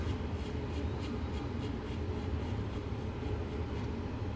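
A multi-tool blade scraping across skin in a shave, a steady close-up rasping with a quick repeated stroke rhythm running throughout.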